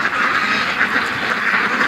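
A group of ducks at a lake quacks continuously and loudly at close range, the calls overlapping into an unbroken chorus.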